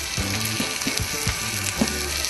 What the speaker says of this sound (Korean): 今日は魚を焼いて食べようと思います